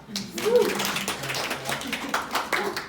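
An audience at a company presentation for a supply chain graduate gives a brief round of clapping, scattered hand claps mixed with a voice speaking over it.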